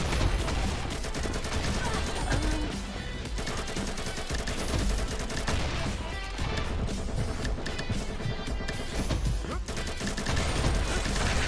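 Dense, continuous automatic AK rifle fire from the shooter game Combat Master, loud and close, with bursts overlapping other gunfire and impacts throughout, a voice talking over it.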